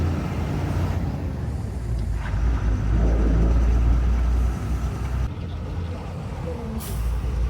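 BS3 lorry driving on a road, its engine rumbling steadily with a low drone and a brief hiss like an air brake, close and loud throughout.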